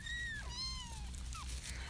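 A kitten gives a few high, thin meows in quick succession, faint and close, over a low background hum.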